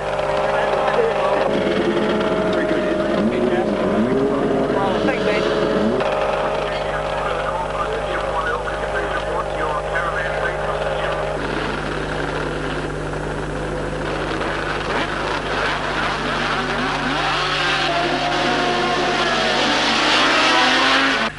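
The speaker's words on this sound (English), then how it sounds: "It's all smoke and horsepower off the grid" Racing motorcycles leave the grid at the Timaru circuit with engines revving and roaring together, rising pitches and a dense snarl of exhausts, while a commentator talks over the racket throughout.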